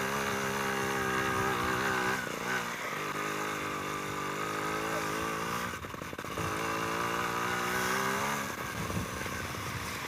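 Trials motorcycle climbing a hill trail, its engine droning steadily with gear changes and brief throttle dips, close and prominent with no voices.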